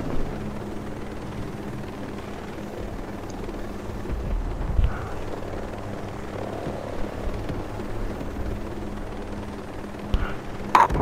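Helicopters drone steadily in the shooter Ghost Recon Breakpoint, a continuous low rotor rumble with a few louder bumps and distant gunfire-like impacts, no talk over it.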